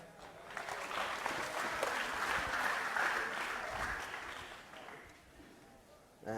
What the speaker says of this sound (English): Give our volunteer a big round of applause here.